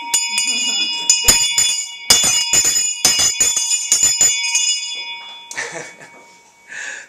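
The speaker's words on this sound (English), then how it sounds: "the old school bell" An old school hand bell clangs in a rapid series of bright, ringing strokes, close and loud, then stops as a voice speaks.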